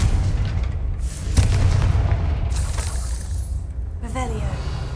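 The Confringo fire spell goes off in the Hogwarts Legacy video game as a loud, deep boom with a blasting rumble that trails off, mixed with game audio and a voice speaking partway through.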